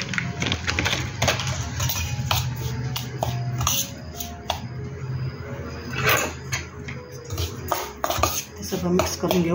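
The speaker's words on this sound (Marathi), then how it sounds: "सगळं मिक्स करून घेऊ." Raw mango pickle being stirred with ready-made pickle masala in a pot, giving a steady run of clinking and scraping of a utensil against metal, fairly close and continuous throughout.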